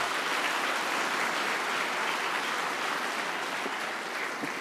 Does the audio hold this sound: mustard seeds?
no